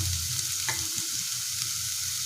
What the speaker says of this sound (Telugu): రెడ్ చిల్లీ పౌడర్ వేసుకొని మిక్స్ చేసుకోవాలి